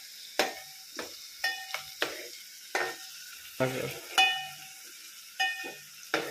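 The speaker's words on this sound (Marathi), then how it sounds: "सोनेरी कांदा होईपर्यंत आपल्याला ढवळायचं आहे" Chopped onions frying in a pan for a spicy mutton curry, stirred until golden: repeated close scraping strokes of the spoon over a steady sizzle, with no talking.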